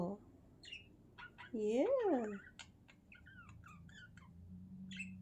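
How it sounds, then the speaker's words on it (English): A seagull gives one loud, squawking call near a beach, rising and falling over about a second, then only faint distant chirps remain. A person says a single word beside it. "She's like, what is that noise? That's a seagull."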